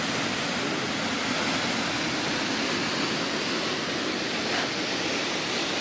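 Water rushes steadily along a small creek beside a lakeside town, a dense, unbroken wash of flowing noise heard close up with no voices.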